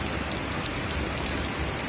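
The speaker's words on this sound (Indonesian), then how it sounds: "Terjebak dalam hujan" Steady rain pours down outdoors at a tattoo park in Majenang, a dense, unbroken hiss of drops on surfaces that holds close and even for the whole stretch, with no other sounds rising above it.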